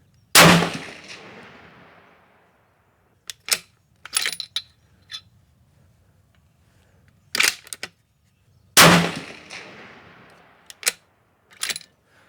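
A Howa 1500 rifle in 6.5 Creedmoor fitted with a muzzle brake fires two loud, sharp shots several seconds apart, each trailing a long decay, with metallic clicks of the bolt being cycled in between.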